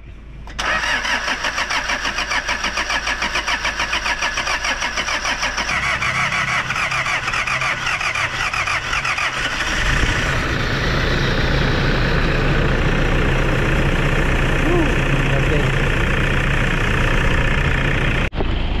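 A Toyota Innova engine is cranked and catches after servicing of the turbo, EGR, fuel filter, air filter and transmission, then settles into a steady, loud idle that runs on for most of the clip, with no talk over it.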